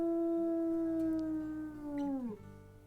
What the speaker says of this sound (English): A little bit of howling.